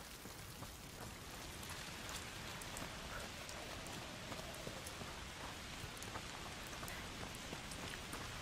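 Steady, faint foul rain pours in a dark medieval video game world, a dense hiss of drops pattering on surfaces without pause, heard alone.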